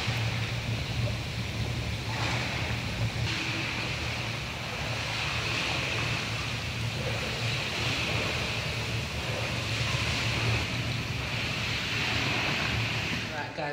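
Pool bubble jets churn in a steady, loud, broadband rush of water and air, with a low hum beneath and no clear break across the stretch.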